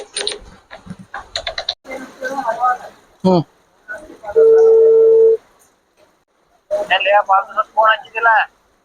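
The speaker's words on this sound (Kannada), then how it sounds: "ನಮ್ ದೋಸ್ತ ಫೋನ್ ಮಾಡ್ಕೇತಂತ ತಡ್ರಿ" A telephone call to a friend is placed: a steady electronic phone tone sounds for about a second between stretches of nearby conversation.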